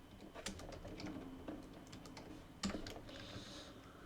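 Rapid typing on a computer keyboard during coding interview practice, a steady run of quiet, close key clicks with a few sharper louder strokes, heard alone without talk.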